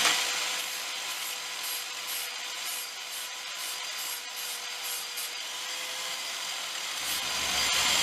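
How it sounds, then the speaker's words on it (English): Angle grinder with a flat disc grinding paint off a steel trailer frame on a Harbor Freight 4x8 trailer build, a steady, continuous abrasive rasp held at even loudness throughout, close up, with no talking. "I need to grind a little bit more off here, so I'm just taking a flat disc here"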